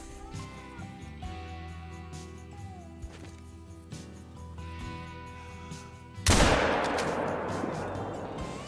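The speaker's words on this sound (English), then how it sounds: "So we just took kind of a front shoulder shot on that one buck there" A single loud rifle shot fired at a whitetail buck in Call of the Wild, a sudden sharp crack followed by a long rolling echo that fades slowly over a quiet outdoor backdrop.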